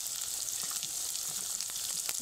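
Ground spices fry in hot oil in a pan, giving a steady, close hiss and crackle with small pops and no voices.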